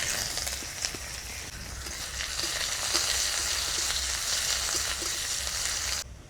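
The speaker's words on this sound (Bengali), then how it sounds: "পেঁয়াজটা ভাজা হয়ে গেছে," Chopped onion frying in mustard oil with a dried red chilli and kalonji tempering in a kadai, a steady close crackling sizzle with faint stirring scrapes, continuous until it cuts off near the end.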